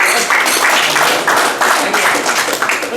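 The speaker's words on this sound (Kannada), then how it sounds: "ಒಂದು ಚಪ್ಪಾಳೆ ಬರಲಿ." An audience applauds for school children with steady, dense clapping, close and loud, running evenly for a few seconds.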